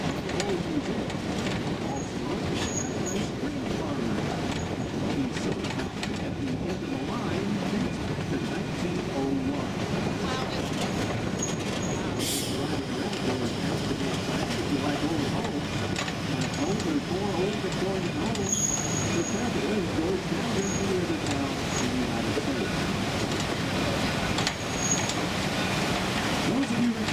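Riding aboard the Georgetown Loop narrow gauge railroad train, a continuous rolling rumble with faint clicking of wheels and occasional light squeals, steady and moderately quiet, with voices murmuring faintly among the passengers.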